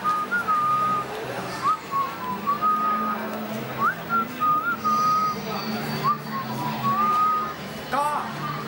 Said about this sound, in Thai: เราสมัครผิวปากฟังกันดีก่อนเนาะ